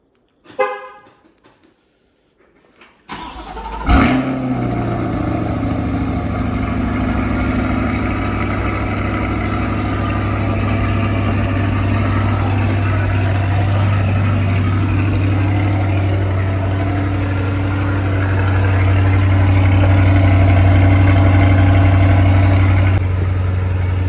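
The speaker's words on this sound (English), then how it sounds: "Let's do a little remote startup." A 2020 Chevrolet Corvette C8 Z51 is remote started: quiet key-fob beeps, a brief horn chirp, then the engine catches with a loud rev and settles into a steady, deep idle that rises slightly later.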